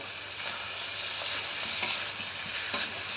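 Hilsa fish heads and bones sizzle and fry in a hot pan as they are stirred, a steady close hiss with a couple of sharp scrape clicks, no voices.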